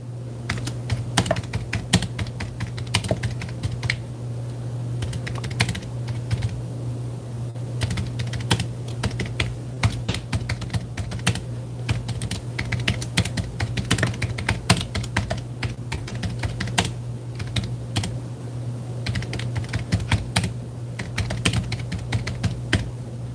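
Rapid, steady keystrokes on a computer keyboard as a chat message is typed, a continuous run of close clicks with brief pauses over a low steady hum, no talking.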